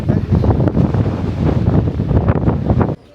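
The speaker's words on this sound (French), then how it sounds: "Par contre, il y a grave des vagues." Sea waves crash on the Lanzarote coast while strong wind buffets the microphone, a loud rough rumble with surging swells that cuts off abruptly at the end.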